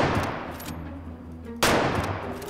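Shots fired at a flying goose in the hunting game The Way of the Hunter, a loud rifle blast cutting in sharply after a stretch of low rumbling ambience, with the report ringing on to the end.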